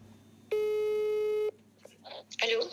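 A single steady telephone tone sounds for about one second, loud and clear against a quiet line, as a call is placed to a rapper's agent; faint voices follow after it stops.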